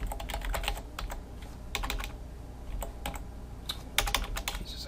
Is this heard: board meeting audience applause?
no